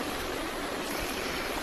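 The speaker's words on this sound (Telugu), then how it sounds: "ముందుగా ఒక గిన్నెలో 1 గ్లాస్ వాటర్ని తీసుకున్నాను" A glass of water pours into a bowl for cooking pasta, a short, steady splashing rush heard close and alone.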